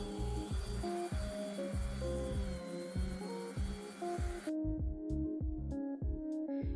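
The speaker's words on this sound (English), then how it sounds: "And now I'm just hitting the corners by hand with the 220 where I couldn't reach with my sander." Hand sanding of a dresser's corners with 220-grit sandpaper makes quick, rhythmic rubbing strokes, about two per second, soft and close, over a faint steady hum that drops away partway through.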